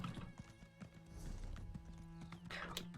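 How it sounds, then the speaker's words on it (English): Hooves clip-clop in a quick galloping rhythm as a horse runs in Elder Scrolls Online, with a short neigh near the end and game music underneath. "Damn it, horsey. Faster. My horse is out of stamina."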